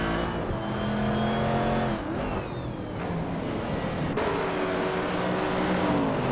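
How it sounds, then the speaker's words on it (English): Engines from a racing video game with a 1966 Shelby Cobra 427C in the pack, a steady mid-level roar as several cars hold their pitch, briefly shift and rise again. "Amy's car is a 1966 Shelby Cobra 427C, currently in 16th place"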